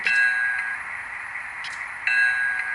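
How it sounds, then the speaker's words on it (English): A model train's electronic bell, on an Amtrak locomotive, rings in two short bursts of bright, repeated metallic dings with a gap between them, close and clear. "So the bell, same thing when I press number 1."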